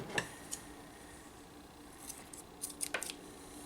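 A few sharp scissor snips cut the yarn after fastening off a crochet granny-style poncho, quiet and close, with soft handling noise between the cuts.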